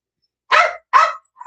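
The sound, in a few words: dog barking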